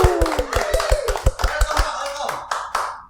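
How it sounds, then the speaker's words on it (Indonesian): An audience in a Makassar coffee-show studio claps in a steady, fairly loud burst of individual hand claps that thins out toward the end, with talk audible underneath. "Kita sambut dengan tepuk tangan, semua tepuk tangan ya"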